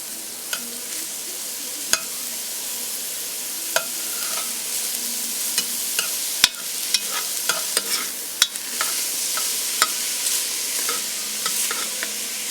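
Vegetables sizzle steadily in a pan for a shepherd's pie soup while a utensil scrapes and stirs the browned fond off the bottom, with sharp intermittent clicks and scrapes over a continuous frying hiss.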